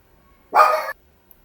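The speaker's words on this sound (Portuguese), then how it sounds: "desculpem o latido da Meg" A single short dog bark, fairly close and clear, in an otherwise quiet indoor room.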